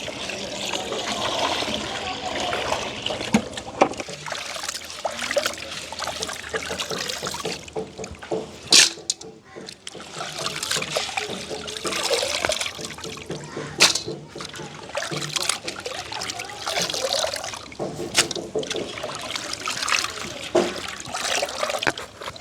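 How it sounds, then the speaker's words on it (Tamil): Cleaned crabs are washed by hand in a vessel of water, giving continuous close splashing, sloshing and trickling with sharp splatters, and voices in the background at times. "நண்டு எல்லாம் நல்ல நல்லபடியாக துப்புரவாக்கி எடுத்துட்டோம் இனி கழுவித்தான் எடுக்க போகிறோம்"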